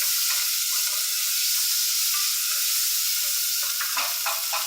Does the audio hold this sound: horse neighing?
no